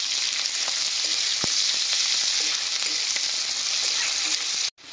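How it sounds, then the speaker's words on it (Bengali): Chopped onions fry in hot mustard oil with cumin and bay leaf for a young jackfruit curry, a loud, steady close sizzle with occasional sharp pops and utensil clicks, cutting off abruptly at the end. "পেঁয়াজগুলো দিয়ে এবার আমরা খুব ভালো করে লাল লাল করে ভাজা করে নেব।"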